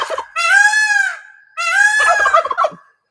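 A pet bird gives two loud, close, drawn-out gobbling calls in quick succession, the second breaking into rapid stuttering notes before trailing off.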